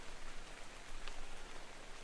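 Steady acid rain pours in ARK: Survival of the Fittest, a dense, even hiss of rainfall on surfaces that runs unbroken and fairly loud, with no voices.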